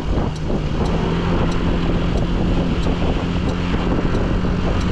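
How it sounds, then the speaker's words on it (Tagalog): Strong winter wind roars and buffets the microphone in a loud, continuous rush that never lets up. "Ang lakas po ng hangin dito."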